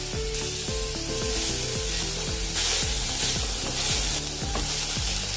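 Methi sabzi sizzles in a kadhai while a spoon stirs it, a loud, steady frying hiss broken by repeated scraping and clinking strokes of the spoon against the pan.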